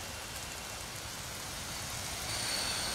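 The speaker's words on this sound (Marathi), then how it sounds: "मुंबईच्या अनेक भागामध्ये पहाटेपासूनच मुसळधार पावसाला सुरुवात झालेली आहे" Heavy early-morning rain falling over Parel in Mumbai, a steady, even wash of broadband hiss that swells slightly louder toward the end, with no voices.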